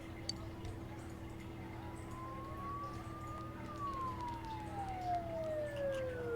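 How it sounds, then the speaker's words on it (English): Police-style sirens in the video game Persona 4 wail in one long sweep that rises slowly, then falls, sounding fairly distant over a steady low background hum with faint ticking. "Don't those sirens sound really close?"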